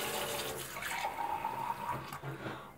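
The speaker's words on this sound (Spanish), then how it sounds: "voy a sacar el agua" Water being drawn and poured, probably from a tap into a container, a steady close-up rush and trickle with a brief faint tone partway through, and no speech over it.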